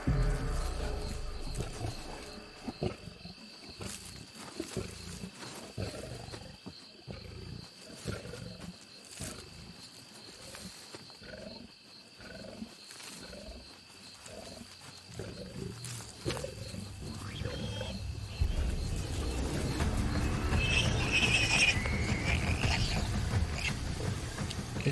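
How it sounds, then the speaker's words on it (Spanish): Male lions snarl and roar while fighting over a wild boar carcass, heavy growls and thuds pulsing in bursts, then swelling into a louder, sustained roaring brawl near the end with birds calling faintly. "A los leones macho no les gusta compartir la comida y luchan por el botín."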